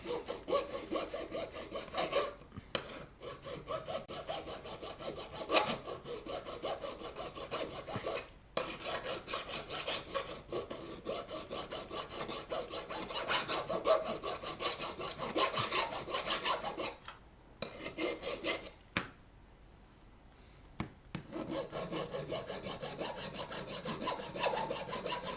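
Steady back-and-forth rasping of a saw cutting a piece off, continuous and fairly quiet with brief pauses between stroke runs and a short silence near the end.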